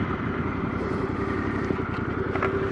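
A few adventure motorcycles in the Flinders Ranges of South Australia, a low steady engine drone rumbling from a moderate distance throughout.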